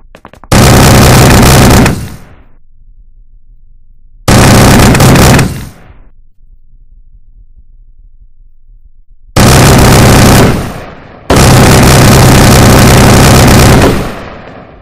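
Machine gun fire in The Last Stand Dead Zone comes in four loud sustained bursts, each lasting one to three seconds and trailing off, separated by near silence.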